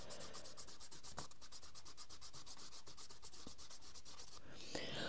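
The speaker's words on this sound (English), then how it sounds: "Gosh, I can see loads of bits that I haven't rubbed out." A pencil eraser rubs rapidly back and forth over drawing paper to remove pencil lines, a fast even run of dry scratchy strokes, close and quiet, with no speech.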